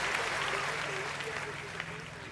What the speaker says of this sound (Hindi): एक बार इनके लिए तालियां बजा दो